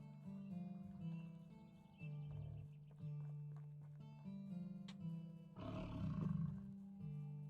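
Wolves growl in the medieval survival game Medieval Dynasty, repeated low snarling roars over a steady in-game drone, with a louder rough burst near the end.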